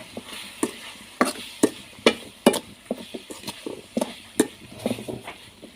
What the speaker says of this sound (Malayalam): പാകത്തിന് നല്ലോണം ഒന്ന് വഴറ്റി കൊടുക്കണം